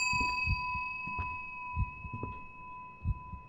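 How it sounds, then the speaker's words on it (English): A bell tolls in the horror game Suite 776. A clear, steady tone hangs in the air while dull, heavy knocks land every second or so beneath it. "did you hear that bell? That bell rings for you!"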